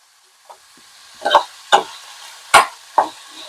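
Eggplant pieces frying in a pan over medium flame, with a few distinct stirring scrapes and crackles in a loose rhythm against a faint background sizzle, close and fairly loud.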